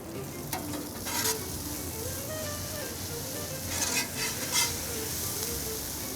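Lo mein noodles fry with sesame oil on a Char-Broil griddle, giving a steady close sizzle with a few louder bursts of crackle as the noodles are spread and tossed.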